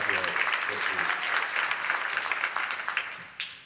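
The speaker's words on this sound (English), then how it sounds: "we're going to give you a round of applause for keeping out here this week" A conference audience in Boston breaks into sustained applause, a dense crowd of clapping hands that holds steady and then tapers off, with a voice faintly underneath.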